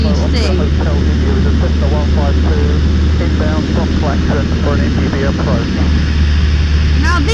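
Light aircraft flying a low pass over water, its engine giving a loud steady drone with cockpit noise throughout, while a voice talks over it.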